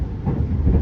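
The Senja Utama Solo passenger train runs on rails in Indonesia with a continuous low rumble throughout this brief moment, without voices.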